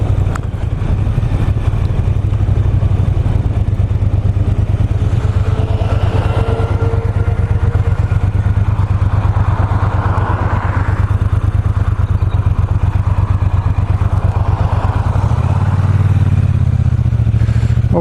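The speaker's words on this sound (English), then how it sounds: "it has that nice sort of almost like a V-twin sound rather than a parallel twin" Triumph T120 Bonneville parallel twin with a 270-degree crank runs steadily up close, a loud, continuous throbbing rumble with a thudding V-twin-like beat, rising in pitch near the end.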